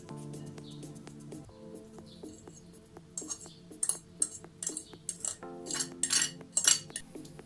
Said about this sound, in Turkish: peyniri de birbirine karıştırıyorum